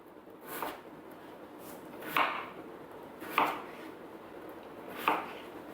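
A knife chopping potatoes into small pieces on a board, four spaced, fairly faint cuts with quiet pauses between them.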